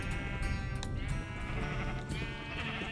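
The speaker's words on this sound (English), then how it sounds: "Another sheep here." Sheep bleating in the video game Minecraft, a few overlapping bleats over a busy, continuous game soundtrack with no talking.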